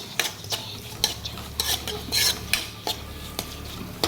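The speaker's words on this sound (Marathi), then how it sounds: "आपली चण्याची डाळ अशी परतून घ्यायची थोडी." Chana dal being stirred and sautéed in oil in a pan, with repeated scraping spoon strokes and clinks over a light sizzle, close and rhythmic, no voices.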